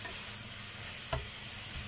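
Stir-fried yam noodles with cabbage being stirred in a pan, a steady sizzling hiss with one sharp scrape of the utensil partway through.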